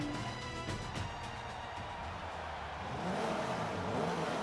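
BMW race car engine in Forza 5 at the start of a race, a steady droning whir that swells louder toward the end, heard alone without talk.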